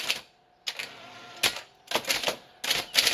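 Keys struck on a Royal Academy manual typewriter, sharp mechanical clacks arriving in quick irregular bursts with short pauses between, close and clear with no voices.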